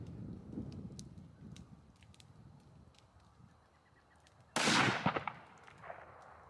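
A single loud, sharp crack from a Remington 700 SPS Tactical rifle fired at long-range targets, arriving partway through after quiet outdoor ambience and trailing off in a brief echo.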